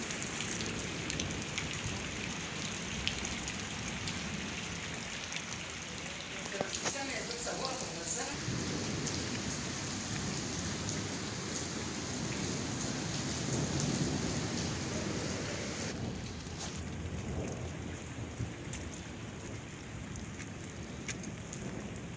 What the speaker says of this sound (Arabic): شوف الشتاء اهو